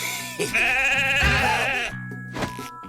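A cartoon goat bleats in a wavering, nasal cry lasting over a second, with a shorter bleat near the end. Soft background music and scattered noises run underneath.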